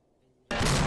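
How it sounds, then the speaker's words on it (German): An explosion in a military video game, during anti-tank training, bursts in suddenly after near silence. It becomes a loud, close, sustained roar. "Alter, was für eine krasse Explosion."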